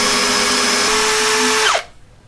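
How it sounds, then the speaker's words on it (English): A power drill driving a screw whirs loudly at a steady high pitch for under two seconds, then winds down abruptly and stops. "I drive in the screw one time while I have it in place"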